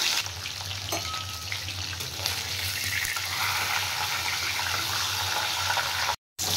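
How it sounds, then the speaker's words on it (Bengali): A rohu fish head fries in hot oil, a loud continuous sizzle and crackle close by, with a brief stir near the start and a short cut of silence just before the end. "এবার আমি মাছের মাথাটা ভেজে নেব।"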